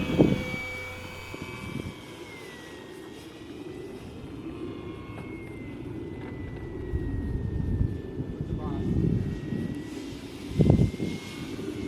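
An E-Flite UMX MiG 15 model airplane flies after a hand launch, its faint high electric whine drifting steadily overhead, with occasional nearby rustling and wind bumps.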